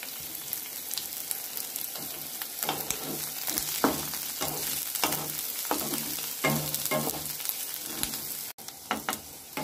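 Onions and garlic fry in hot oil in a pan, a steady close sizzle punctuated by rhythmic spatula strokes scraping and stirring every second or so.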